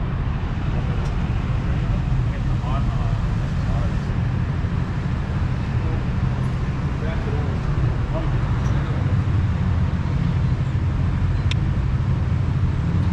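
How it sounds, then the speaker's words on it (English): Nissan 240SX S13 cruising on the road, a steady, loud engine and road drone heard from inside the car, continuous throughout with no breaks or distinct events. "So fun cruising with some S13s once again."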